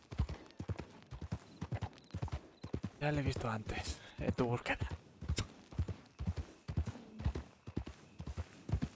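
Horse hooves clip-clop in a steady, regular rhythm in a ranch roleplay video game, clearly audible under a person talking over much of it.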